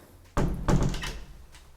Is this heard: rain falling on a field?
no